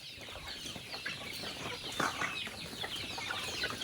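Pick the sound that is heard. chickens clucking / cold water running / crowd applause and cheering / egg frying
chickens clucking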